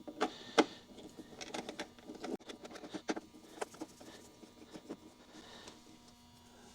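Small 7mm screws being removed from the blower motor hatch of a BMW E30, heard as faint close scattered ticks, light rattles and handling clicks over a low steady hum, without talk.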